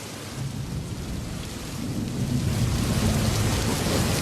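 Dense, steady roar of a heavy storm sound effect with hail and fire raining down, a continuous wash of pounding rain and deep rumble that grows slightly louder, with no voices.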